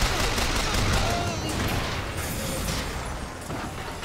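Player's guns firing in BioShock Infinite, a dense, steady stream of rapid gunshots with rattling mechanical clatter, loud and continuous, partly under a talking voice.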